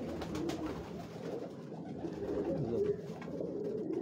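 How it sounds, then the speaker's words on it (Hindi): Prince (Shahzade) breed pigeons coo softly and steadily on a Lahore rooftop, a low continuous murmur of several birds close by. "ये जी हमारे प्रिंस कबूतर है जी, शहजादे कबूतर"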